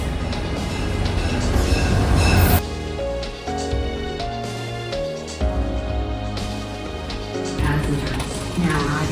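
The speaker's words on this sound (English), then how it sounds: "now riding on track G is the New Jersey Transit 915 inbound train to Hoboken" A New Jersey Transit train at Secaucus station gives a loud, close rumble with ringing metallic tones and squeals that shift over several seconds.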